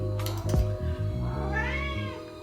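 A house cat meows loudly and close by, giving a few drawn-out, wavering cries in quick succession with no talk around them.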